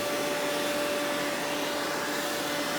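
Rainbow E2 canister vacuum cleaner running at strong suction, a loud, steady, close whooshing hum with a faint tonal whine and no change throughout.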